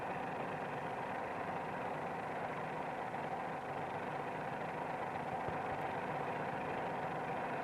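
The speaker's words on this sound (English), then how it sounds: "Another cue to the correct climbing attitude is the sound of the engine." Engine of a PT-17 training biplane working harder during a climb, a steady, continuous drone with a low rumble and slight vibration, close and unchanging throughout with no talk.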